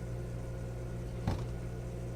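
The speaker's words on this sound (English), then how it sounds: "We're going to melt that butter first in the microwave for a second." A microwave oven runs to melt butter in a home kitchen, giving a steady low hum with a brief louder click or thump midway through the short stretch.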